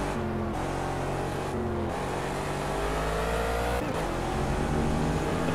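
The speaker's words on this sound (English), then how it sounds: "Still feathering the throttle a lot." A Gumpert Apollo S supercar racing at the Nürburgring in Project CARS, its engine droning loud and steady with pitch climbing and dipping as the throttle is feathered, brief dropouts between rises.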